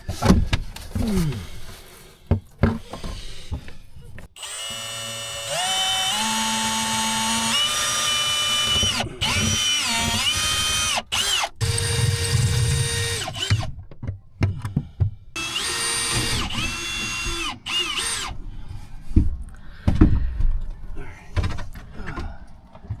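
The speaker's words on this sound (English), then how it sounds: "So yes, John is drilling through fiberglass, our fiberglass trailer inside." A power drill bores through the fiberglass wall of a small Casita trailer from inside, whining in sustained bursts that shift pitch as the bit loads, with pauses, clatter and occasional voices in between.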